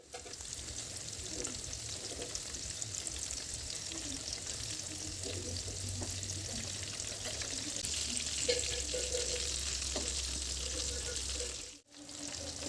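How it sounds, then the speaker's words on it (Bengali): Egg and potato snacks frying slowly in oil give a steady, close sizzle that crackles continuously, with a brief drop near the end. "একটু সময় নিয়ে ধীরে ধীরে ভেজে নিতে হবে"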